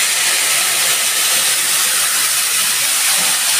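Steady, loud sizzling hiss as water is added to potatoes in a hot pan while cooking a rohu fish curry, constant and close with no talking.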